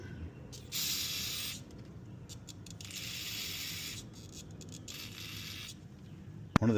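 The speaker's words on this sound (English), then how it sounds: "Just spray it." Several bursts of aerosol spray cleaner on a part of a small Mantis tiller carburetor, close and loud, each hissing for about a second with short pauses between.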